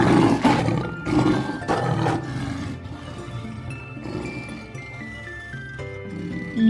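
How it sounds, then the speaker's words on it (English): A lion gives several deep, rough roars in quick succession, loud and close, with chiming musical tones ringing behind and carrying on after the roars fade. "Lion."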